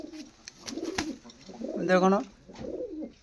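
Large Kaldom pigeons coo in repeated rolling bursts close by, with one louder, longer coo in the middle, while a person speaks briefly over them.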